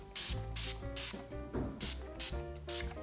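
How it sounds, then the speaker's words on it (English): Urban Decay makeup setting spray misted onto a face in several short pumped bursts, each a brief airy hiss, close up, with a faint voice murmuring between sprays. "Here we go, I'm spraying you."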